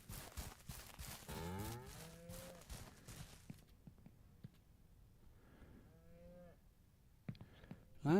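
Cattle in the video game Ranch Simulator give two drawn-out, moderately loud moos, one early and one later, with softer farm ambience and clatter around them and a sharp noise at the very end.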